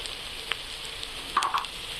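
Red chilli masala, made with Byadgi chillies, fries in oil for a fish and vegetable dish, giving a soft, steady sizzle and a few brief clinks and stirring taps, with no one speaking.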